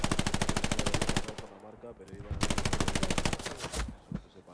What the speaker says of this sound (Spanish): ¡Oh! Me disparan.